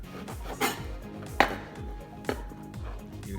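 A knife cuts the crusts off a Bombay vegetable sandwich, making three or four separate thuds on a board, close and moderately loud, with quiet pauses between them.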